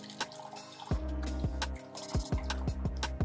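Water poured into a mixer jar over grated coconut for grinding coconut milk, a short series of close splashes and drips with brief pauses between pours.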